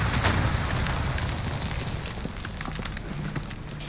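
Heavy rumbling explosions from a bombing run in Call of Duty: Modern Warfare, a dense, continuous low roar with scattered crackling bursts that stays loud throughout and slowly tapers.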